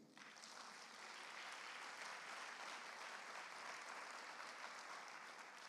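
A church congregation applauding, sustained steady clapping from a crowd, heard from a distance and fairly quiet, with no voices over it.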